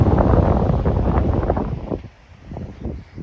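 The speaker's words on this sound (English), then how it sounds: "Wind up here." Steady wind buffets the microphone on a coastal hiking trail beside a sandbank and low vegetation, a loud rumbling roar that eases off toward the end.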